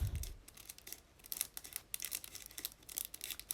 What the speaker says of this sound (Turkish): Makasla açacağım.